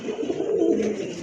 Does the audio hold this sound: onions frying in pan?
no